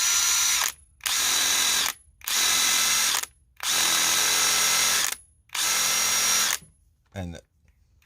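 A Dewalt 12V Xtreme brushless impact wrench spins freely in five loud, close bursts of high-pitched whirring, each lasting about a second and separated by short silences. A brief ratcheting click follows near the end.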